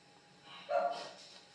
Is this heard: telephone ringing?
no